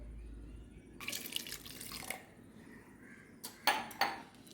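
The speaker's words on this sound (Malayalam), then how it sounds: "കുറച്ചും കൂടി വെള്ളം ഒഴിച്ചെടുക്കാം" Quiet splashes of water being poured in short bursts into a mashed millet and vermicelli mixture for porridge, with a faint clink of a utensil between them.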